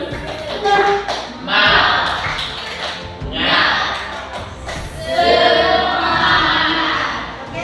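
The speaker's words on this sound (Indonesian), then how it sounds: "Coba kita sini dulu, tepuk semangat." A classroom of students does a rhythmic spirit clap led by a teacher, with loud bursts of group clapping and crowd noise in waves, mixed with voices nearby.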